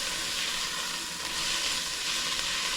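Onion, ginger and garlic sizzling in a pan for a Moroccan-style soup: a steady, close, bright frying hiss that swells slightly midway, with no talking.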